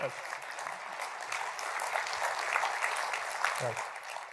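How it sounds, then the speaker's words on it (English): An audience claps at a Southern Baptist luncheon event, a sustained round of applause at moderate level with a voice briefly heard beneath it near the start and end. "Yeah, go ahead and clap for that."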